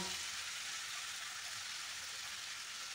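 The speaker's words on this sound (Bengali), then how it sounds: "যখন মশলা থেকে তেল ছাড়তে শুরু করবে দিয়ে দিতে হবে ভেজে নেওয়া ফুলকপি আর আলু" Fried cauliflower and potatoes sit in hot spiced oil, giving a soft, steady hiss and sizzle throughout. It is faint and continuous, with no talking.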